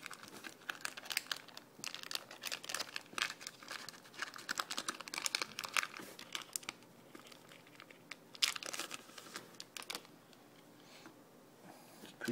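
A Magic: The Gathering booster pack wrapper being torn open and handled, with soft, close crinkling and crackling bursts that come and go against a quiet room.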